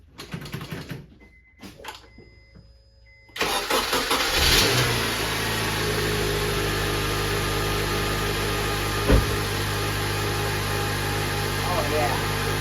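2007 Honda Accord K24 four-cylinder engine cranks and starts after a clutch replacement, a few starter clicks and whirs followed by a surge to a steady, close idle with one brief knock; a voice speaks near the start.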